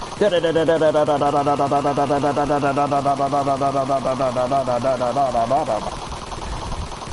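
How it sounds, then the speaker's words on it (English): A struggling car engine in the game Mafia: Definitive Edition gives a loud, close, rapid stuttering drone with a fast even rattle, like quick typing. It runs steadily for about six seconds, then cuts out. "Sounds like somebody's either typing real fast on a freaking typewriter or an engine about to go out."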